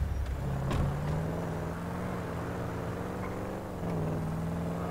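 A sports car cruises along in GTA 5 Online, a steady in-game engine drone holding an even pitch with a brief shift partway through, continuous and fairly close, with no talking.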